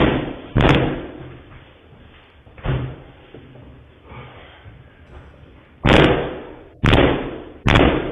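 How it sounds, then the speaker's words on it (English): A man kicks a studio door, heavy booming thuds landing five times at uneven intervals, loud and close, with a muffled room rumble between the blows. "So he's trying to kick the other door."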